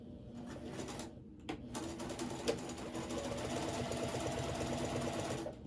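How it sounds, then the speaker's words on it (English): A sewing machine stitches a cross body bag with a steady, fast mechanical whir close by, interrupted briefly by a couple of short pauses, and faint bird cooing in the background. "I guess it would have been better to move my sewing machine over so you could see it."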